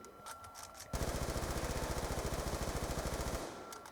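Rapid automatic fire from the Ray Gun Mark II in Black Ops 2 Zombies rattles out as one dense, evenly pulsing burst lasting about two and a half seconds, with quieter game sounds before and after.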